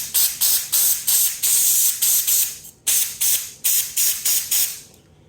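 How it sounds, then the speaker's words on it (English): Compressed-air spray can blasting dust from the inside of a desktop PC in a rapid series of short, loud hissing bursts, separated by brief gaps, close to the microphone with no talking. "So I didn't remove everything, so I'll just give it a couple more sprays."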